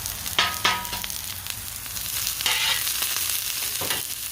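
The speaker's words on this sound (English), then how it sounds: "you got to get them onions cooked down." Onions cook down on a hot surface for smash burgers with a loud, close sizzle, punctuated by several sharp scraping and stirring strokes against the metal.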